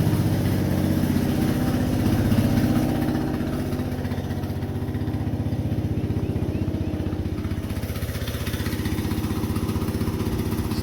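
An Onan generator engine runs steadily about four inches from the exhaust, a continuous droning hum with a slight dip in loudness partway through.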